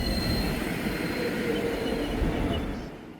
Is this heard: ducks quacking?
no